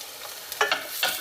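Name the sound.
chopped onion sautéing in cooking oil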